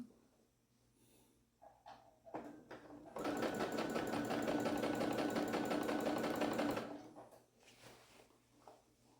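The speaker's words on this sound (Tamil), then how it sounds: "ஸோ இப்போ வந்து நான் ஃபுல்லாக ஸ்டிச் பண்ணி உங்களுக்கு எடுத்துகிட்டு வந்து காமிக்கிறேன்" Sewing machine stitching a border fabric onto a maxi gown during a height alteration, running in one steady loud burst of about three and a half seconds between quieter handling noises.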